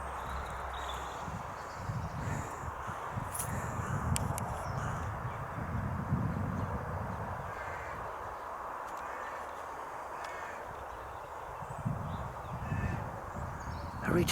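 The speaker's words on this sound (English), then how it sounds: "Every time I go to a place like this, there's always crows around." Crows caw faintly and far off over the grounds of a castle manor house, sounding above a steady, loud wind-like rumble and rustle that fills the whole stretch.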